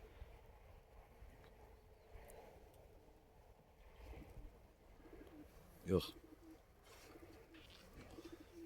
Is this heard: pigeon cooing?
yes